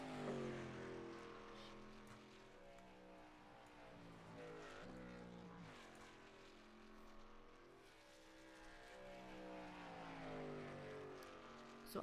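Truck engines in an online sim race game, a smooth droning whine that rises and falls in pitch as the vehicles accelerate and shift, fairly quiet and continuous.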